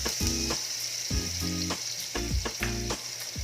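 Onion and dried fish sautéing in a pan for a cassava-leaf coconut dish give a steady sizzle broken by about four periodic spatula scrapes and stirs, close and fairly loud, with no talking.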